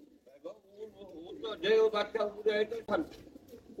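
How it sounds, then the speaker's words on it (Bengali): A male pigeon coos in a pigeon collection, giving several soft, close, throaty calls mixed with someone talking nearby. "এটা একটা নর কবুতর"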